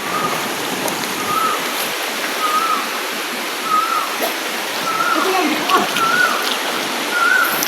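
Rushing river water flows steadily nearby with a broad hiss, while birds chirp faintly and occasional voices come through.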